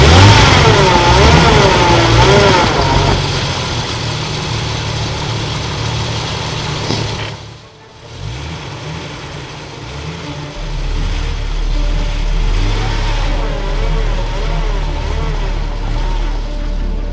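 Off-road 4x4 engine revving hard on icy snow, a loud, rising and falling roar that briefly drops away, then returns with a deep, steady low rumble.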